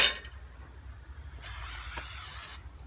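Oil spray hissing onto a cast iron grate for Dutch oven cooking, two short bursts from close by, the second longer and louder, with no talk.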